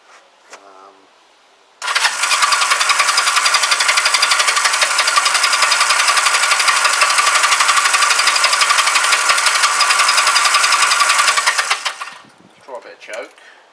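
A Honda CM200T Twinstar motorcycle engine catches after brief sounds and runs at a loud, steady close idle for about ten seconds, then cuts out, with a few quieter noises after.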